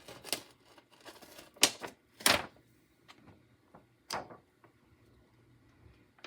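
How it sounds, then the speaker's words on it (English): DTF transfer film is peeled off copy paper in several short, sharp crackling tears separated by quiet pauses, close and fairly soft, with no talking. "I'm going to carefully remove the film from the copy paper"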